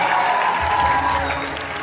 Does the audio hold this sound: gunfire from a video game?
no